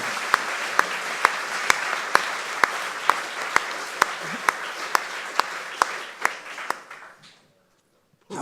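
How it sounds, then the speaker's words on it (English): An audience at a live drawing event breaks into applause: dense crowd clapping with a few sharp, evenly spaced loud claps standing out, gradually thinning and dying away to silence after about seven seconds. "Let's give them a round of applause."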